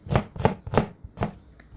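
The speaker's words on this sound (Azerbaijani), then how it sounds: "Soğanı həm yarım halqa, həm də halqa formada doğradım." A knife chops onion into rings and half-rings, giving five crisp, evenly spaced cuts close up. Each cut is a short knock on the board, with a brief pause before the fourth.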